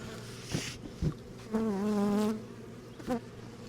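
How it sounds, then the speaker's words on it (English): Honey bees from a newly installed bee package buzz close by on a cloudy day, with several short passes and one sustained drone of wingbeats against a quiet background. "Bees everywhere."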